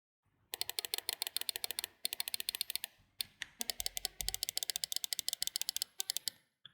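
Side buttons on a Waizowl Cloud gaming mouse clicked rapidly in long runs of sharp, close, tactile clicks with a few brief pauses between bursts.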